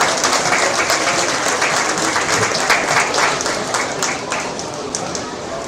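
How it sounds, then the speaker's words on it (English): Steady crowd applause at a hog show as young exhibitors leave the ring, sustained clapping throughout at moderate distance, with an announcer's voice under it. "Let's give a round of applause to the kids as they head back to the barn."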